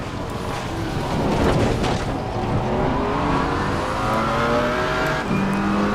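A race car engine in a sim-racing video game drones loudly and continuously at high revs, the pitch climbing gradually as it accelerates, with no one speaking.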